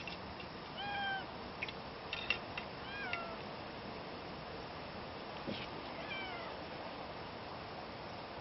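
Several cats meow in a rural yard where chickens also roam, giving a few separate rising-and-falling calls at moderate distance over a steady hiss of background noise, with no talking.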